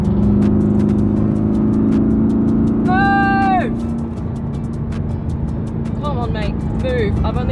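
A car travelling fast on the German Autobahn at around 220 km/h gives a loud, constant engine drone with road and wind roar inside the cabin, while a voice talks over it and faint chimes or beeps sound briefly.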